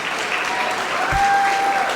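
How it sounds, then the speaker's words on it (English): Steady applause fills the room at an academic awards dinner as a guest is honoured, dense and continuous from start to finish without pause. "Mrs. Murphy, get your round of applause."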